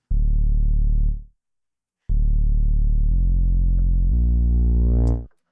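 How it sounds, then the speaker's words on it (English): Deep analog synth sine wave bass notes: one short held tone, a pause, then longer sustained notes stepping in pitch and ending with an upward glide. "this is a simple sine wave bass"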